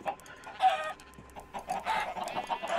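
Minecraft chickens cluck continuously in overlapping, close bursts, a busy flock chattering with no speech.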